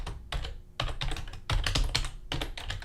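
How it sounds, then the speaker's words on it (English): Rapid typing on a computer keyboard while entering a line of debug code, with bursts of close, clicky keystrokes separated by short pauses. "One thing we're gonna do here is type debug.log hello."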